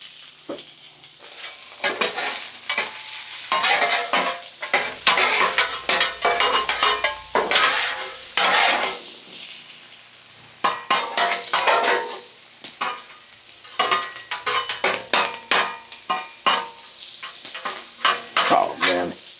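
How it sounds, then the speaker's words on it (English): Onions and potatoes hit hot garlic-infused oil on a griddle, bursting into loud, close sizzling and crackling that swells and dips in waves, with metal spatula scrapes and clinks throughout. "Now I am going to drop my onions and potatoes right over that garlic."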